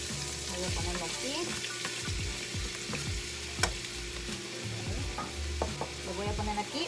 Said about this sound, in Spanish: aquí puse un poquito de aceite para refreír mi cebolla y mi pimiento